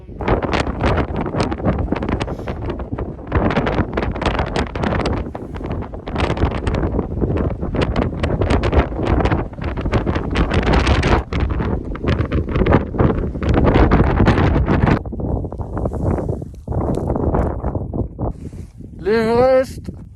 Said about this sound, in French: Le vent est dantesque.